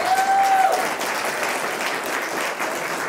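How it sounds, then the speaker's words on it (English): Church congregation applauding after morning worship music, a steady, dense clapping from many people that fills the room, with a brief sustained tone fading at the start. "give them a round of applause"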